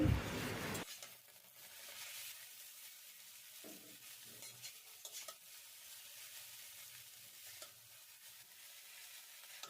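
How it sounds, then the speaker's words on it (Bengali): Egg chow mein being tossed and mixed in a pan over a low gas flame, a brief loud rustle at the start, then a low, quiet sizzle with intermittent soft scrapes of stirring. "এবার চাউমিনটা খুব ভালো করে মিশিয়ে নিতে হবে।"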